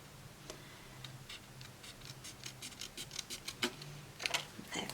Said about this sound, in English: I'm going to do this one with my scissors, which I've got here